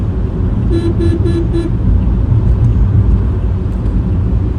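A car travels along a road near Kushtia town, its steady engine and tyre rumble filling the scene, with a few short horn toots early on and no talking.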